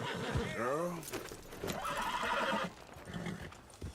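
A horse in the Red Dead Redemption 2 video game gives a loud whinny over clip-clopping hooves, with a voice talking over it throughout.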